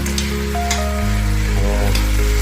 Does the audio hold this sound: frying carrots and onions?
yes